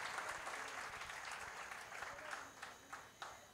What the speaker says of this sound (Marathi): परत एकदा टाळ्या होऊन जाऊ